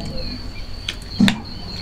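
Crickets chirping near a beekeeping site during an acacia honey harvest, a thin steady high trill running through the background with a couple of brief louder chirps.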